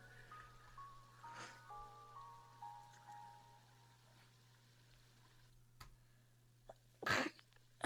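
One sharp, close sneeze bursts out near the end of a quiet stretch, after faint scattered background noises.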